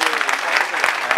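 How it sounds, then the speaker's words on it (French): An audience at a pan-African gathering claps steadily, a dense burst of applause filling the short moment at close range, with a voice mixed in over it. "je voudrais vous demander de vous acclamer en fond"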